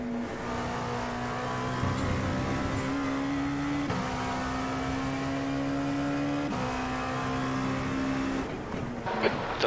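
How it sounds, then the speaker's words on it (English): An LMP2 prototype race car in iRacing drones along at high rpm, a steady harmonic engine note shifting slightly with gear changes and a sharp rise at the end, heard alone without talk. "Lots of people in the chat I've noticed are really big fans of how the LMP2 sounds."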